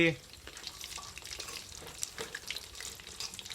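Mackerel fries in hot oil in a pan, giving a close, crackly sizzle with scattered pops and spits, fairly quiet and busy throughout.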